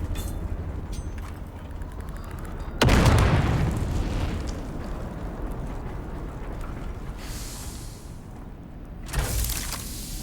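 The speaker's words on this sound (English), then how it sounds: "Pop the grenade." A grenade explosion in the video game Dune Awakening: a sudden loud, deep boom with a long rumbling decay, followed several seconds later by a second, smaller burst.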